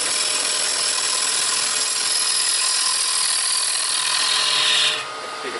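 A wood lathe spins a bowl blank while a gouge cuts it, producing a loud, steady, hissing shear. The noise stays constant, then drops away abruptly near the end.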